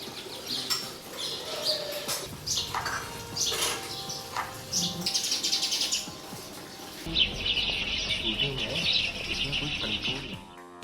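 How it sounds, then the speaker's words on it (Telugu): Small sparrows chirp in a rapid, busy flurry of high tweets at close range, mixed with other background noise throughout. "మరి చిన్న చిన్న పిచ్చుకల్ని తీసుకొచ్చిన మీకోసం చూడుండ్రి"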